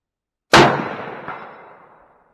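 A single Remington 700 rifle in .308 fired at a steel target 200 yards away: one sharp, loud crack close by, followed a moment later by a faint metallic ping of the hit, then a long, fading echo.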